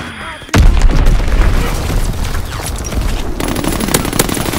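A bomb explodes with a sudden loud boom in a multiplayer war video game, followed by a dense rumble of continued blasts and gunfire close by, with no talking.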